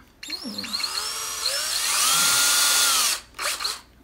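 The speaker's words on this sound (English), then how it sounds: "you can cut the head off the pliers, the nail, and actually use the nail like a drill bit" A power drill using a nail as its bit whirs steadily for about three seconds, its pitch rising as it bites in, then stops and gives a couple of short bursts.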